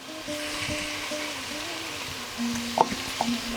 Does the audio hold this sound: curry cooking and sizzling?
yes